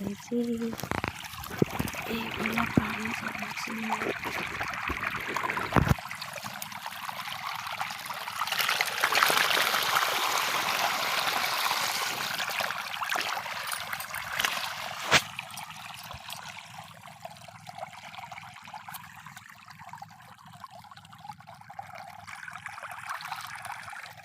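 Water sloshes and trickles steadily from a bucket during an outdoor bath, a continuous splashing flow with a louder surge partway through, while voices talk over it.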